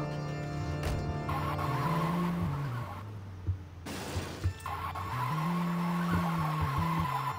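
A company car in the game Saint's Row 2 drives with a humming engine that shifts pitch, then breaks into screeching tire skids. A few sharp impact knocks come mid-way before the engine drone resumes.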